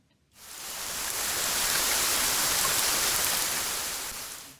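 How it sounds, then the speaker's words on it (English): Dense, hissing downpour on a tin roof swells in and holds steady, a loud uniform wash of rain drumming without a break, then eases slightly at the end. "How about if you were in a cabin that had a tin roof and it was raining very hard?"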